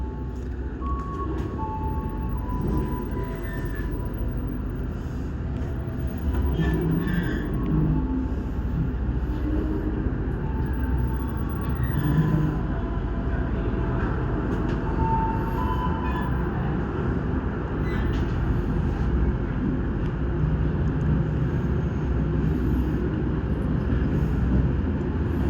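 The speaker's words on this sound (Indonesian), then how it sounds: "kereta api Sembrani melanjutkan perjalanan dari stasiun Tegal" The Sembrani passenger train runs on toward Cirebon after leaving Tegal, a steady low rumble of wheels on rails with faint clicks and squeals heard from inside the carriage for a long stretch.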